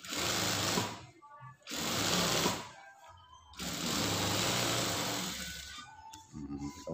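An electric sewing machine stitches the lining of a trouser pocket. It whirs loud and close in three bursts separated by brief pauses, and the last burst comes in short stuttering runs.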